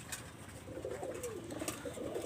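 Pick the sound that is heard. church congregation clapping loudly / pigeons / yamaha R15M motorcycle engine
pigeons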